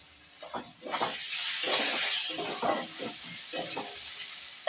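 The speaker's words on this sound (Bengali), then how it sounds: "আদা রসুন পেঁয়াজ আমার লাল লাল করে ভাজা হয়ে গেছে।" Sizzling of ginger, garlic and onion frying in a pan with repeated scraping and stirring strokes, a steady hiss underneath, close and moderately loud, no voices.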